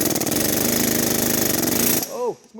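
An air hammer rattling loudly and continuously at close range as it works a bolt on the turbo of a Mitsubishi Eclipse GSX, then stops abruptly, followed by a brief voice.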